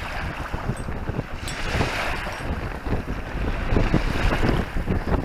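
Wind blowing hard outdoors, a loud buffeting roar with gusts swelling and easing, rumbling against the microphone the whole time, no talking.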